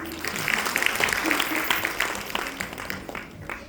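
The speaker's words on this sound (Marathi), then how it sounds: "आता ऐकूयात खरं टाळ्या होऊन जाऊ" Applause from an audience at a women's group Bhondla festival performance in Thane, a steady wash of many hands clapping for several seconds, moderately loud, with a few voices mixed in.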